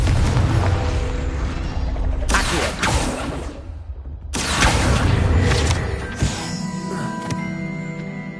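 A Confringo blast spell in Hogwarts Legacy bursts in loud, booming waves, with two heavy explosive surges separated by a short lull and rumbling debris trailing off.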